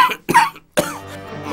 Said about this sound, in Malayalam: മാമന്റെ ചുമ ഇനി മാറിയില്ലേ?